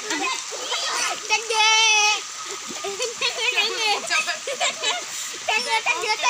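A rooster splashes and flaps about in water, close and lively bursts of splashing, with children's voices and chatter running over much of it.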